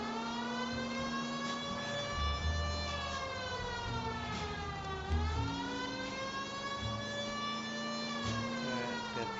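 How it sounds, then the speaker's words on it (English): A police siren from a 1946 crime drama wails steadily and continuously, with one dip and rise in pitch partway through, over a low engine rumble. "Keep the sirens on."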